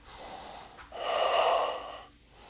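A tai chi practitioner exhales while pulling the left elbow back in Yang style 24 form, a short breath followed by a longer, breathy audible exhale of about a second, close and soft, alone without speech.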